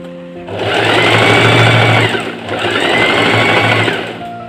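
Sewing machine stitching a traditional Kadazandusun garment, two long runs of fast, even whirring separated by a short dip, loud and close, with no talk.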